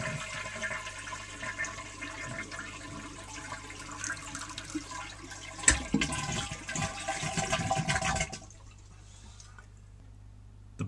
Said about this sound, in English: I'm going to flush the toilet to empty the tank.